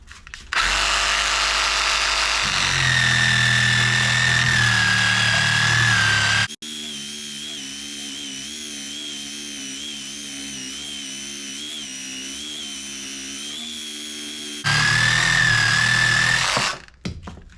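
A powered saw cuts loudly through fresh green wood in two strong bursts, with a lower steady engine drone running between them, close by.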